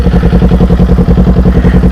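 A 2021 Kawasaki Z400 ABS motorcycle with a Leo Vince aftermarket exhaust runs with a steady, loud, throbbing engine pulse at close range, its rhythmic beat holding even throughout.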